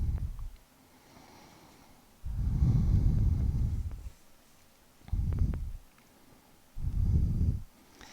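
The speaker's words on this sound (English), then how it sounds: "Two more breaths here." Slow, deep breathing during a yoga pose on a mat, with four long breaths at an unhurried pace, each a soft, close rushing sound separated by quiet pauses.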